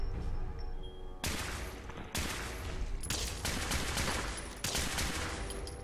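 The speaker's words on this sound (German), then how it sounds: "Warum schießt du auf mir? Ich schieß mal zurück, ne?" Sustained gunfire exchange in the post-apocalyptic game Fallout 4, with loud, sharp volleys of shots that break out in distinct bursts over a constant battle din.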